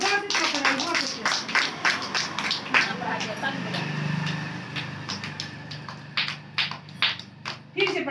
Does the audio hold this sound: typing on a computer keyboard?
no